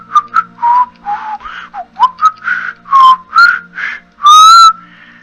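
A person whistles a tune: a lively run of short chirped notes and longer held ones, close and clear, ending on a loud sustained warble with no talking.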